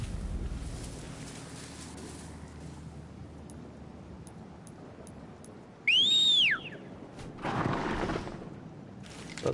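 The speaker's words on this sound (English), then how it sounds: "That's some pretty impressive whistling as well." Loud whistling from a character in the video game Horizon Zero Dawn, a single sharp rising-and-falling whistle cutting through steady wind and ambient game sound, followed by a burst of noise.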